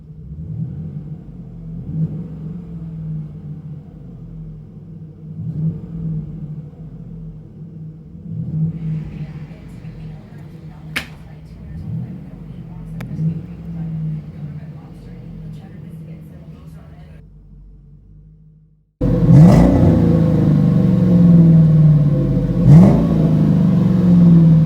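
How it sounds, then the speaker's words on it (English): A low, muffled exhaust rumble heard inside a 2012 Chevrolet Silverado pickup with a Flowmaster true dual exhaust and tuck-away tailpipes swells and fades with each acceleration, then jumps to a louder, steady drone near the end, with speech. "Interior tone level is moderate with this Flowmaster True Dual exhaust."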